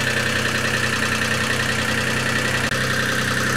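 A cogeneration engine idling with no load makes a steady, even mechanical hum with a constant tone, continuous and close, without speech.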